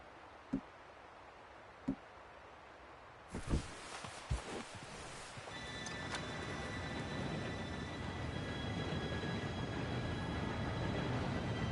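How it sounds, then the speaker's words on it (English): Train arriving in Red Dead Redemption 2: after a few sharp clanks and thuds, a steady rumbling roar rises and holds, with a faint high metallic whine layered on top. "Train should be here any minute now."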